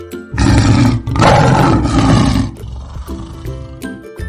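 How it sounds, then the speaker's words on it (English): A lion roars loudly and close, two powerful sustained bursts followed by quieter grunting breaths, with no one talking. "Lion."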